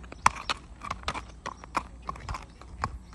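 A 14-year-old, 15-hand red dun quarter horse gelding being led away: irregular clip-clopping hoofbeats on hard ground, fairly faint, with uneven spacing between steps.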